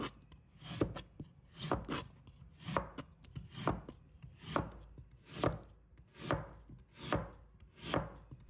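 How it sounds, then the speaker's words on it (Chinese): A knife slices a radish into thin slices on a cutting board in a steady rhythm of about nine or ten crisp, close strokes, each with a short rasping cut that ends on a board tap. "然后把萝卜切成薄片"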